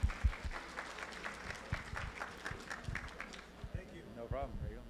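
An audience at a community services vision luncheon gives someone a round of applause, a brief burst of scattered clapping that fades near the end as a voice begins to speak.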